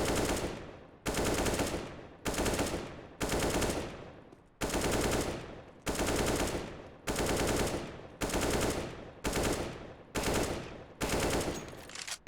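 Bursts of AK rifle fire in the video game CS:GO come as about ten evenly spaced automatic volleys, each roughly a second long, loud and close with brief gaps between them.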